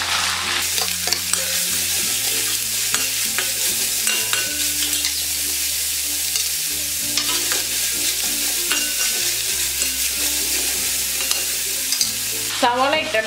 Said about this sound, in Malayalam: ഈ അരിഞ്ഞു വെച്ചിരിക്കുന്ന സവോള ചേർത്ത് നല്ലതുപോലെ ഇതൊന്ന് വഴറ്റി കൊടുക്കാം.